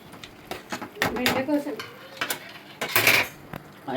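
A metal lid clatters onto a pan of cooking prawn curry with sorrel leaves, giving several close, sharp clinks and scrapes over a faint sizzle.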